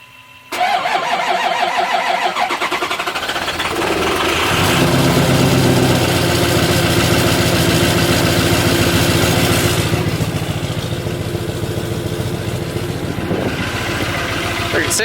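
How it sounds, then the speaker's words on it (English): A Ford F250 6.0 Powerstroke diesel engine with a low-voltage alternator cranks and fires up, then settles into a loud, steady, rattling idle close by, with a brief rev partway through. "see if she'll start with a low voltage alternator"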